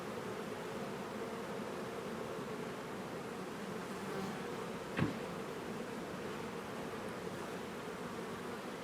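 Honeybees hum steadily inside an open hive during an autumn inspection, a soft, even drone of many wings close by, with one brief faint click midway and no talk.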